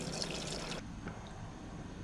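Water from a toilet auto-syphon unit pours and splashes loudly for under a second, then cuts off to a softer trickle and drip of water draining away.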